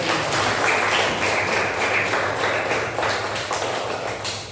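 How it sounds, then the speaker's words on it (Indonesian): A classroom group of students claps together, a dense, steady patter of many hands filling the space at close range for a few seconds. "Kasih tepuk tangan untuk kita."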